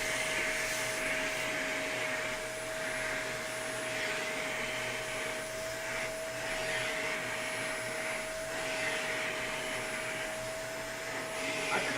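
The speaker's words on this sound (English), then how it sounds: "I'm just gonna kind of dust it a little bit, and then vacuum as I go." A wet/dry vacuum cleaner runs steadily with a constant whine and airy roar. It stays close and even in level, with no talking.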